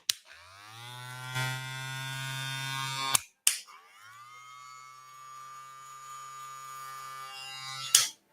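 Electric hair clippers from Wahl or Stylecraft buzz steadily, switched on twice with a click between runs, a close, even motor hum with no talking.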